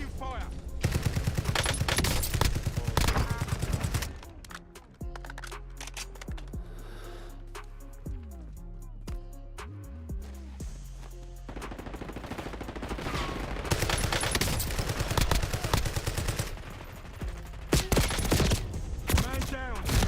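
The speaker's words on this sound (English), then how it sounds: "Taking fire." Rapid automatic gunfire in a video game firefight, long loud bursts at the start and end with a quieter stretch between where voices speak under the action.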